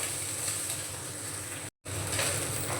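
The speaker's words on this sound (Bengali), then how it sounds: "তেলটা ভালোভাবে গরম হয়ে গিয়েছে। এখন এই গেঁড়িগুলো দিয়ে দেব। ভালো করে এখন ভেজে নেব গেঁড়িগুলো।" Freshwater snails (gedi) frying in hot mustard oil, a loud, steady, close sizzle that crackles on without pause, broken only by one very brief dropout.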